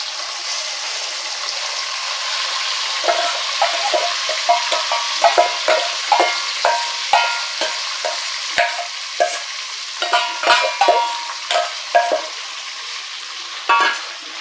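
Grated raw mango stirred and fried in a pan for mango rice, heard as a steady sizzle broken by repeated, fairly loud scraping stir strokes with no talking.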